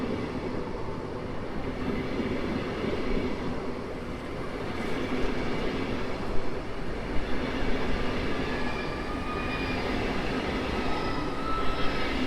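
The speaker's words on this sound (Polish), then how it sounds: "Rusza najpierw Express Intercity Premium." An Express Intercity Premium train departs from Warszawa Zachodnia station at night, a steady rumbling roll of wheels and motors with faint squeals and rail clicks building slightly as it pulls away, with no voices.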